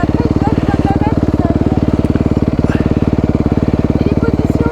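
A motocross motorcycle engine at a track in Trofarello, Italy, runs in a loud, steady, fast-pulsing drone close by, its rhythm holding even without a clear rise in revs. Faint talk sits beneath it.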